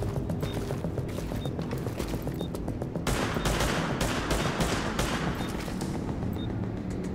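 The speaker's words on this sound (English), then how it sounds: "What are you shooting at, man?" Dense automatic gunfire from The Division beta, with rapid overlapping bursts and shots that run steadily through the clip and grow louder and busier about halfway in, like a heavy firefight nearby.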